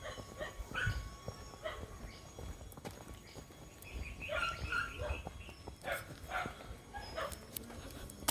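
Near a village shop in Purok 7 Tabacuhan, a dog barks and whimpers in short bursts amid outdoor ambience and clopping hoof-like knocks, at moderate distance.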